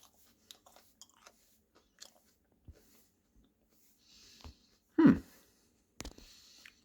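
Pea microgreens being chewed, a few soft, close crunches and bites scattered over near silence, with one louder burst of munching and breathy mouth noise.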